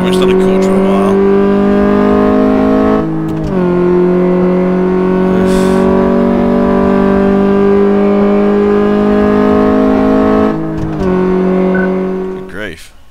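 In the Car Mechanic Simulator game, a car accelerates hard in first gear on a quarter-mile run, its engine holding a loud, sustained high-rev drone with brief dips at about 3 and 11 seconds, while someone talks over it.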